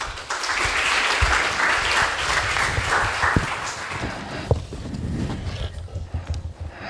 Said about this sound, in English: please give him a warm applause to start his talk